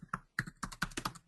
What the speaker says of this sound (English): hear somebody typing on their keyboard